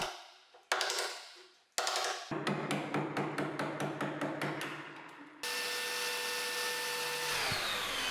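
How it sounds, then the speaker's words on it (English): Chisel cutting a bevel along a ruler on a kitchen countertop: a few sharp strikes, then a rapid run of about a dozen close, evenly spaced taps, followed by a sustained whirring tool sound. "I mark the depth and cut the bevel with the help of a ruler and a chisel."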